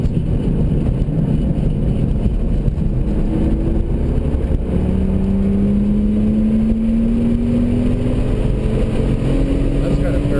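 Race car engine droning steadily on a track, a continuous loud motor note with a slowly rising pitch as it accelerates, heard from inside the car.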